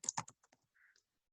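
A short burst of computer keyboard typing while filling in a job application form, a quick cluster of crisp key clicks followed by a few lighter taps, close and clear with no speech.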